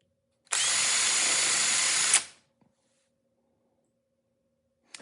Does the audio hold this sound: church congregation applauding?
no